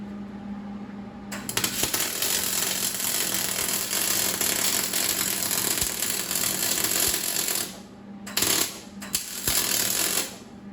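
A MIG welder runs a seam on an aluminum adventure motorcycle pannier with a steady, harsh, close crackling buzz that holds for several seconds, drops out briefly, then restarts in two short bursts.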